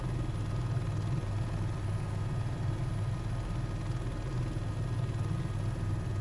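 A helicopter flying in Microsoft Flight Simulator, a steady low rotor and engine drone that holds constant throughout with no talk.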